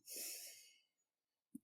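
A slow, airy exhale during a cardiac coherence breathing exercise, close and soft and tapering off, followed after a pause by a brief nasal sniff.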